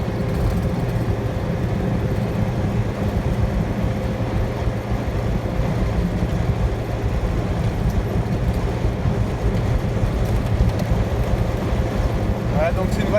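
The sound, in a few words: Citroen 2CV car driving and vibrating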